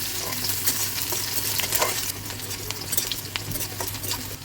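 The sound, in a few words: onions frying in a pan for mung dal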